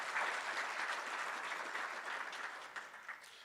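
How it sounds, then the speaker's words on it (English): Audience applause at an investors' luncheon, a steady wash of many hands clapping that holds loud and dense before thinning out toward the end. "Yes, please give him a round of applause."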